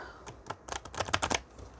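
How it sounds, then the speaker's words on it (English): Tarot cards being shuffled by hand, a quick run of crisp riffling bursts, close and moderately loud, rising to a dense cluster before trailing off. "So we're going to finish shuffle these, okay?"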